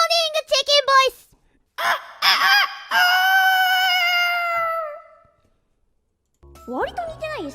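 A voice imitating a crowing chicken, giving a string of short choppy calls, then longer drawn-out crowing notes, and a final rising squawk after a brief pause.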